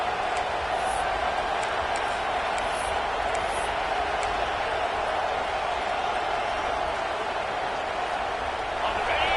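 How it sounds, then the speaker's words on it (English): Stadium crowd in the Madden football video game roars steadily as the defense tries for a red zone stop, a dense continuous wash of cheering and noise at constant loudness with no clear peaks. "The crowd getting behind this defense as they try to get a stop in the red zone."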